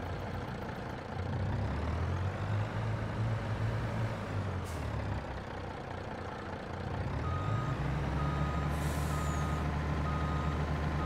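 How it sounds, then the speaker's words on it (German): A heavy truck engine in Farming Simulator 22 rumbles and shifts in pitch while a steady reversing beep repeats, with a brief hiss of air brakes. "So, das ist der Klang von diesem LKW."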